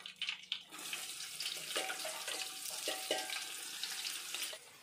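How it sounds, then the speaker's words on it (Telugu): Chopped onions frying in a pan of oil for a Kuwaiti machboos-style biryani, a steady close hiss and sizzle with soft crackles throughout, no talking. "ఎర్రగడ్డలు బాగా ఎర్రగా ఏగేంత వరకు వేయించుకున్నాం"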